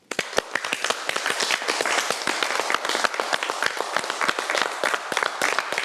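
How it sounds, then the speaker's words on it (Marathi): Steady applause from a television reality-show audience, many hands clapping densely and continuously at close range for several seconds without talk. "स्वतः टाळ्या वाजवतो."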